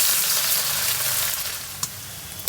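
Chopped onions fry in hot oil on their way to browning, giving a dense, bright sizzle that eases slightly, with a single utensil tap near the end.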